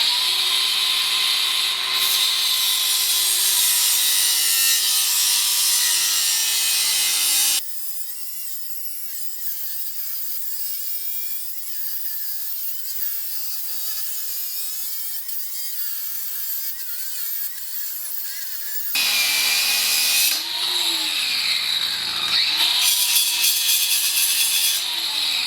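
A power saw grinds steadily through a transmission shaft part during work on a TH350 and NP208 setup, loud and continuous, drops to a quieter whining stretch in the middle, then returns at full bite.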